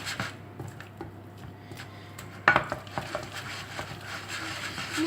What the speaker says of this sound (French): Nous mélangeons.